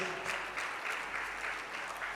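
Audience volunteers at a championship conference talk clap their hands in a steady, even round of applause, with pulsing bursts of claps close by.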